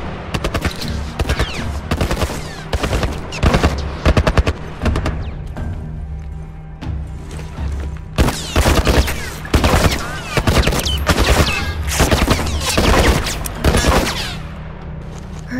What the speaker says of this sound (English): Military turret, just stay down!